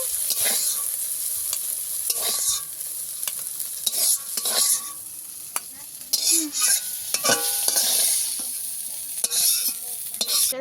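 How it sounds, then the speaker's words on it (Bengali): Pieces of rohu fish fry in hot oil in a pan, with a steady close sizzle broken by repeated scraping and clinking as a spatula stirs and turns them; no voices. "মাছটা আমি এইভাবে ভেজে নিয়েছি, তুলে নেব।"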